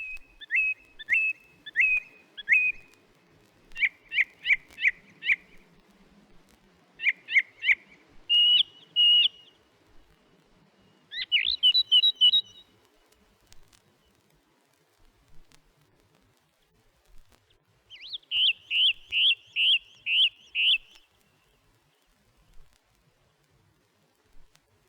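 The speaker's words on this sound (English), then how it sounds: "Many song thrushes have left too, but a few can often be heard tuning up with great variety and vivacity" Song thrushes sing in winter woodland, short repeated whistled phrases in bursts separated by pauses, clear and moderately near against a quiet background.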